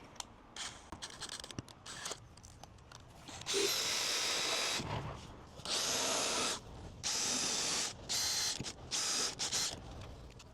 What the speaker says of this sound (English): Use your drill.